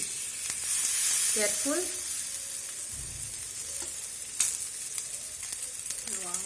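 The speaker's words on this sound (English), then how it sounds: "Once oil is heat, then you put the marinated fish on the pan." Marinated mackerel fish frying in hot oil on a tawa pan over a medium flame, a steady broadband sizzle running throughout with a few brief scrapes and clicks, and a voice speaking briefly near the start.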